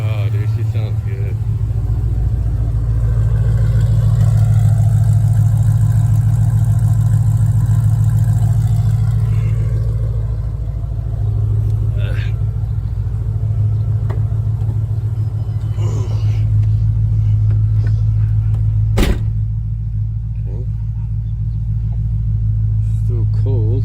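A Shelby GT500 engine idles cold with a deep, steady rumble close by, holding an even note throughout with faint background noise.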